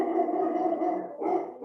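Pet dogs barking indoors, several loud close barks run together with a brief pause before another burst, heard alone without talk.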